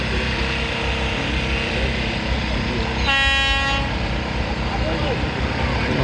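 A train horn sounds clearly for under a second, mid-clip, over a steady loud rumble of a train rolling along a Pakistani mainline track near the Attock city bypass after a derailment was cleared; a voice is also faintly present.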